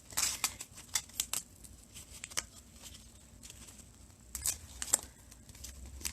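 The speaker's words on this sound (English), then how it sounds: "I have to remove this stabilizer in the back so I can get to the zipper itself" Embroidery stabilizer being picked and torn away from the back of a zipper, heard as quiet, irregular crisp snips and rips in short clusters, close by and fairly faint.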